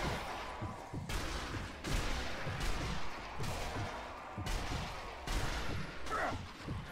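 Gunfire and explosive booms in the zombie shooter game Nazi Zombie Army 2, repeated heavy thuds over a dense, noisy game mix, with some quiet talk.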